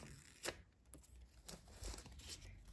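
A small sticker packet is torn open by hand, giving a few short papery rips and crinkles at close range in a quiet room, with one sharper tear near the start.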